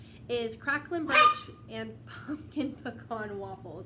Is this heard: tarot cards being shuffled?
no